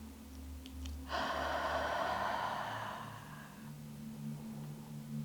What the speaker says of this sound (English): a deep cleansing breath in through the nose, out of the mouth